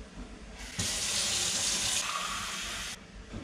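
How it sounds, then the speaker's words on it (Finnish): Tap water pours into a glass of juice in a short, close burst of splashing hiss lasting about two seconds, starting and stopping abruptly against a quiet room. "Sitten mehun sekaan pikkusen vettä."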